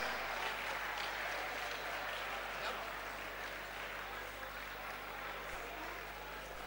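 Sustained clapping fills an awards-night conference hall as honourees head up, a broad continuous patter of many hands that eases slightly toward the end, with faint crowd murmur underneath.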